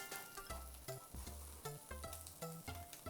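Bacon frying in a pan, heard as a soft, steady sizzle with repeated light scraping and stirring knocks at a quick irregular pace, close but faint.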